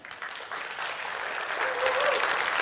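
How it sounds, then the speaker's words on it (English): Applause from an audience at a team seminar on direct selling, honoring the company's founder, starting light and swelling into a dense, sustained clapping with a faint cheer near the end. "Let's give him a big clap."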